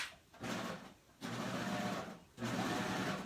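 Serger sewing machine stitching and trimming about an eighth of an inch off a fabric edge for an eyeglass case, three close, fast whirring runs separated by short pauses, with no talk.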